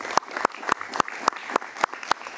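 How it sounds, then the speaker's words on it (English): An audience at a land and property research conference claps in sharp, evenly spaced beats, each clap crisp and close. "So a big round of applause for everyone,"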